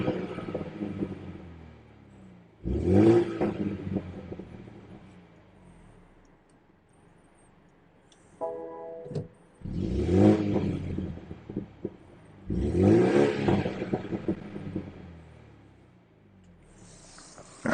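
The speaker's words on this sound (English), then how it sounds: "let's get some revs" A 2021 BMW M235i Gran Coupe engine in Sport Plus, revved in three loud rising bursts with quiet idle between them, heard close and alone.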